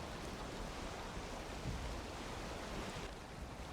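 Ocean surf from Valheim rushes in a steady, broad wash of breaking waves and wind, with a boat out on the water and no voices.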